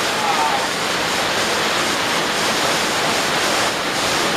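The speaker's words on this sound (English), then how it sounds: "Bottom of the waterfall." A Utah waterfall roaring close by as a loud, steady broadband rush of falling water that fills the scene without pause.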